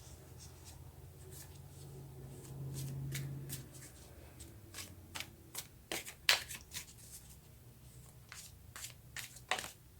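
Tarot cards being shuffled by hand, soft papery riffles and sharp card snaps repeating irregularly at close range, fairly quiet with a low background hum.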